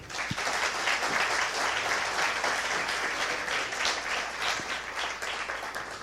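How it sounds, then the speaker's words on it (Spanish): Congregation at a Spanish-language church service applauding steadily, a dense, sustained wash of many hands clapping throughout, fairly loud and even, with no one speaking over it. "Ofrezcan un fuerte aplauso al Señor."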